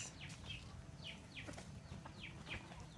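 Chickens clucking softly at a distance, a few short rising calls repeating at a loose rhythm over faint background noise.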